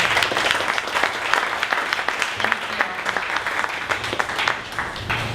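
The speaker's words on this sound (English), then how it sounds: "Round of applause for Skrible." An audience at a 1 Million Cups Dallas startup pitch event breaks into steady, dense applause, many hands clapping together with no pause through the whole stretch.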